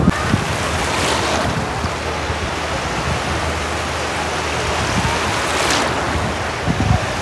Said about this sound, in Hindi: पानी का आवाज़ आप लोग सुन सकते